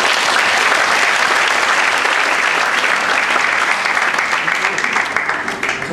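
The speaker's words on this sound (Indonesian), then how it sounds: "Kita beri tepuk tangan buat Tuhan." A church congregation applauding during a worship service, loud dense clapping from many people that holds steady and eases slightly at the end, with voices faintly mixed in.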